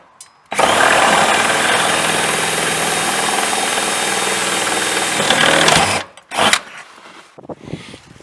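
A power drill bores a pilot hole through ribbed metal siding on a pole barn, a loud steady whine lasting several seconds before stopping abruptly, followed by a few short rattling handling noises.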